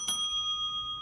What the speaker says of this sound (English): When their time is up, the sound of a bell will play.